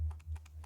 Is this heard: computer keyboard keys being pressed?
yes